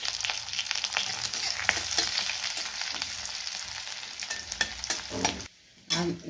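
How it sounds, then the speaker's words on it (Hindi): Onions fry in a pan for saag, giving a steady, close sizzle with stirring scrapes throughout; the sound drops out briefly near the end, then returns. "थोड़ा सा प्याज को हम भून लेते हैं"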